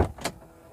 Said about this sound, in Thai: ปลดล็อกประตู